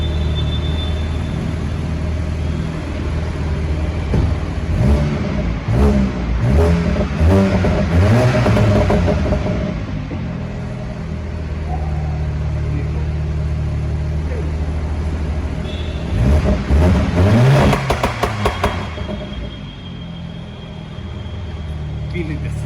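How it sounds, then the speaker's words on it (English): A Skoda Octavia VRS with a cat-back exhaust revs loudly nearby, its deep rumble swelling in two bursts, while someone talks over it almost throughout. "This vehicle is damn loud, okay? You can hear those fumes"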